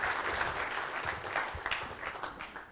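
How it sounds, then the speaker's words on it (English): A conference audience applauds as a speaker is welcomed onto the stage, giving sustained, moderately loud clapping from many hands that stays even and then thins slightly toward the end. "Please give her a round of applause."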